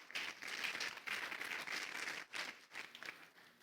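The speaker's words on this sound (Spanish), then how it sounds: "Démosle un aplauso al Señor en esta mañana." A church congregation applauds together during a Christmas service, with steady, dense clapping that swells and dips briefly before continuing at a moderate, somewhat distant level.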